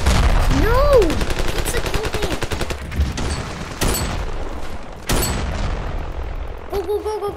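Rapid gunfire and explosions in the war game Ravenfield, with dense bursts of automatic fire, a few sharp booms and a voice shouting over the battle noise.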